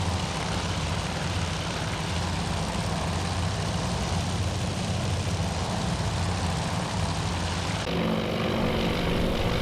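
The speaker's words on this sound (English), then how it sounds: "the strike aircraft are now over the target, at least the first part of the strike anyway, and they're taking anti-aircraft fire" Propeller strike aircraft fly over in the naval video game Task Force Admiral, a dense, steady engine drone that holds throughout and shifts in tone near the end.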